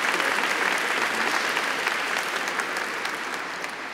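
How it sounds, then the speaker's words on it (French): An audience at a family-themed festival gathering applauds, a close, dense and steady round of clapping that carries through without pause and eases slightly at the end. "C'est la première fois qu'on m'applaudit parce que j'ai des enfants"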